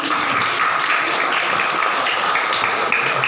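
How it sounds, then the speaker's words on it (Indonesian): Dense, steady applause from an audience at an Indonesian religious study gathering, broadband clapping filling the whole moment at even loudness without a break. "Tepuk tangan untuk Indonesia."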